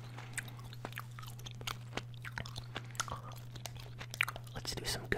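Soft, wet chewing and smacking sounds close to the ear, irregular and quiet, over a low steady hum.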